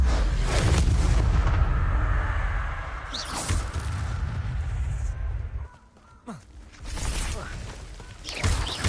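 Blasting-spell explosions in Hogwarts Legacy on PlayStation, a dense run of loud booms and crashes with a brief lull near the end before more bursts.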